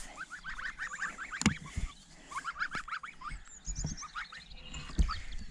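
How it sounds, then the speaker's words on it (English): Young geese on a smallholding honk and peep in a busy overlapping chorus, with a few louder close calls standing out over steady outdoor background noise. "And now let me show you the little gooselings."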